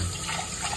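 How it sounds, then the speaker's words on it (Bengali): Tap water running steadily while raw chicken is rinsed in a home kitchen, a close, continuous splashing hiss with no talk. "ব্রেকফাস্ট করার পরে আগে চিকেনটা ধুয়ে নিই"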